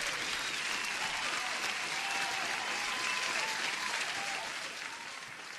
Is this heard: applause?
yes